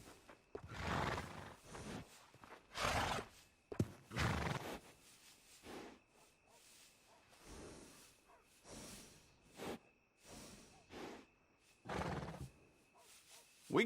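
Horses in Red Dead Redemption 2 at a stable, giving repeated loud whinnies and snorts in bursts spread across the stretch, with some hoof clip-clop between them and quiet gaps.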